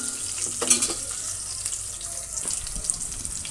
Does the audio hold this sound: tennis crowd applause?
no